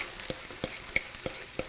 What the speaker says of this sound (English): It's probably going to sizzle a lot.